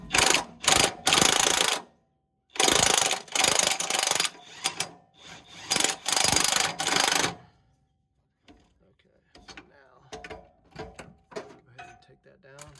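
A hand ratchet works a bolt out of the rear camber arm on a 2005-2013 Mazda 3, giving bursts of rapid close clicking in several runs, then a pause and lighter clicks and handling noises.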